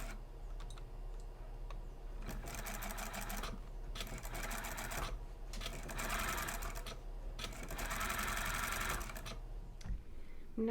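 A sewing machine stitches along piping cording on a Peter Pan collar, running in several steady mechanical bursts with short pauses between them, close and moderately loud.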